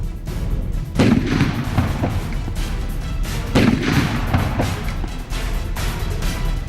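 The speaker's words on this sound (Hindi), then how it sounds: "एक के बाद एक कई धमाके।" Repeated heavy blasts at a political rally in Patna's Gandhi Maidan, Bihar, in news footage: two strong booming bursts rise out of constant crowd noise, each trailing off into rumble.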